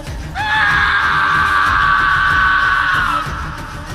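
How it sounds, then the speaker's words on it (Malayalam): A terrible scream as a horror-story sound effect, loud and close, rising sharply and held for about three seconds before cutting off into quiet. "ഒരു ഭീകരമായ അലർച്ച കേട്ടു."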